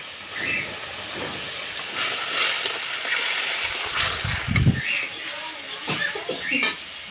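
Ginger and chili paste hit a hot pan and fry with a steady, loud hiss and sizzle, swelling in bursts as the spices are stirred, while someone talks softly in the background.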